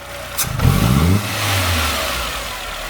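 A Renault Sandero 1.0 8V engine with an intermittent throttle fault revs up sharply once, then sinks back to a steady low idle, close and loud with no voices.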